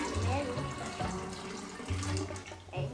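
Warm water pours steadily from a tap into a container for a dry ice experiment, a continuous splashing flow that pauses briefly midway, with faint voices in the background.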